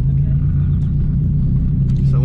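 A protuned 2004 Subaru WRX STI runs in first gear with a steady, loud, low engine drone heard from inside the cabin, while people talk over it.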